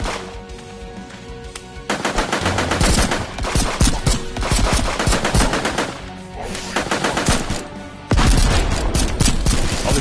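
Rapid automatic gunfire in the desert warfare game Cactus Cowboy, loud, dense bursts of shots rattling almost continuously, with a brief quieter lull before the firing resumes and again toward the end.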